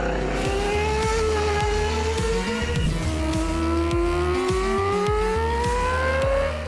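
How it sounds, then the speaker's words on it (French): The Mazda 787B prototype race car, a famously loud Le Mans sports prototype, shown at a Mazda fan festival in Japan, roars through rising and falling high-pitched engine revs with rapid gear changes, loud and close, alone without talk. "une légende de la course automobile, la superbe et surtout très bruyante 787B"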